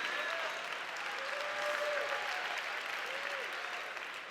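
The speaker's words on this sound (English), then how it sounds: "One more round of applause for Stephanie as she goes back to her seat." Audience applause at a TEDxBerkeley 2020 talk, a steady wash of clapping from a seated crowd lasting throughout, fairly distant and moderately loud with faint tonal squeaks and no speech over it.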